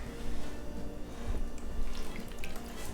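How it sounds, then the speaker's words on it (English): Colored water poured into plastic ice cube trays, a steady low trickle and splash with small drips and clinks, fairly quiet and continuous. "Now, I'm going to fill up the ice cube trays with the colored water."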